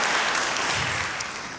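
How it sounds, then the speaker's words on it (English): An audience claps in a steady, dense wash of applause at a Carver Project faculty conversation event, sustained and fairly loud throughout without a break. "could we just give them a round of applause for hosting us one more time?"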